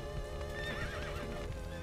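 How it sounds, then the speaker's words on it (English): Horse neighing in The Witcher 3, a drawn-out whinny with wavering pitch over faint hoof clip-clops, close and steady, with no speech. "Geralt's horse Roach manages to live up to the expectations set by the noble steed she's encountered in other games thus far"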